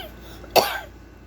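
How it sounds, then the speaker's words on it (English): One sharp, close cough from an adult, a single abrupt burst that fades quickly into quiet room tone. "Snacking cough."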